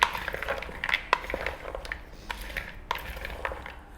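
Potato and beetroot salad with walnuts and dill gets tossed in a bowl, giving soft scraping, clinking and crunching sounds at close range with irregular taps.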